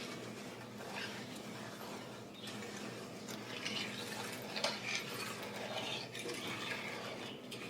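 Strawberry pie filling base being stirred in a pot on a stove over medium heat, with soft scraping swishes and light clinks of the utensil, quiet and close, with no talk.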